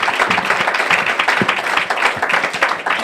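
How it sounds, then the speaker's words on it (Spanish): A church congregation applauds the Lord during a Spanish-language service, with dense, steady clapping from a crowd filling the whole stretch at an even loudness. "Denle un aplauso al Señor"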